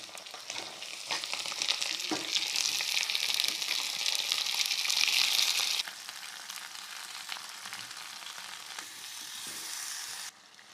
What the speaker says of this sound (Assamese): আলুখিনি ভাজি ল'ম।